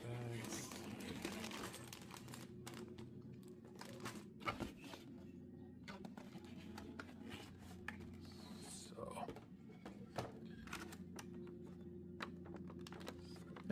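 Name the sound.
plastic bags crinkling while unboxing a Mattel Brick Shop Honda Civic set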